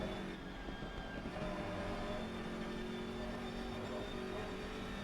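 A BMW GT3 race car in Assetto Corsa Competizione at the Nürburgring gives a steady, loud engine drone that holds evenly with no clear gear changes.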